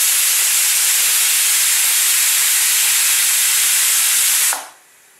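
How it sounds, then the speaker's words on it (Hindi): Steam released from a pressure cooker making vegetable biryani, a loud, continuous close-up hiss that holds steady for several seconds and then cuts off abruptly. "थोड़ी सी स्टीम इसमें से रिमूव कर देंगे"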